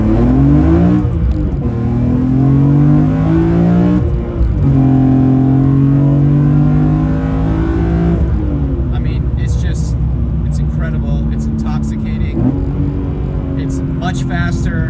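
A BMW M3 CSL on a back road revs through a downshift and pulls hard, engine note rising in sweeping pitch climbs with gear changes, close and loud, while someone talks over it.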